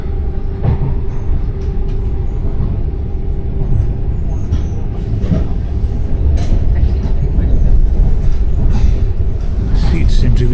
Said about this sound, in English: First time on an Italian train.